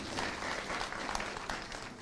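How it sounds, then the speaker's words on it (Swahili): Audience applause for a university professor at a public event in Meru, a dense, steady wash of clapping from a crowd, moderately distant and continuous throughout. "Tumpe makofi"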